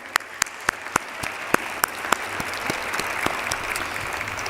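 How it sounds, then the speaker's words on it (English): An audience at a school department awards ceremony gives a round of applause: a few distinct claps at first, then steady moderate clapping from a crowd heard at some distance. "Give them a round of applause."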